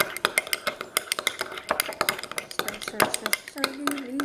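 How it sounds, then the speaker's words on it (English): A spoon stirs ranch chip dip in a bowl, giving a steady run of close clinks and scrapes against the dish, ending in a few louder knocks. "you're going to take your spoon and stir it all up"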